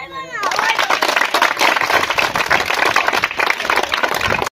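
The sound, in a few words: everyone clapping loudly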